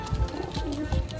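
A pigeon blind in one eye coos nearby in short, low rolling notes, two or three bursts in quick succession.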